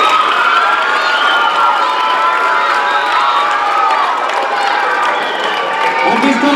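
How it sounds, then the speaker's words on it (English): A large crowd at a youth football and cheer awards banquet cheering and clapping loudly and continuously, with excited shouts and voices mixed into the noise. "let's give the freshman cheer and football squads another round of applause."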